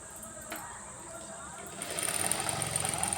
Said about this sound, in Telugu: షాప్లో కుడుతున్నా కదండి అందుకే సౌండ్లు వస్తున్నాయి